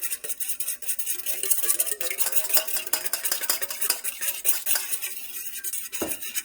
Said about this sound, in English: And then we're just gonna whisk it together.